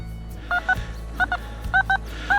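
A metal detector gives repeated short electronic beeps in paired bursts, clear and close, four groups over a low steady hum while digging for coins at an old abandoned house.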